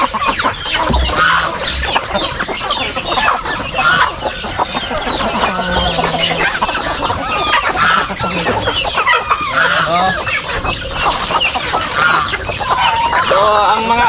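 Chickens cluck and squawk continuously around a Filipino backyard farm pen also holding geese, ducks and turkeys, a busy layered chorus of fowl calls close by, with a voice talking intermittently among them.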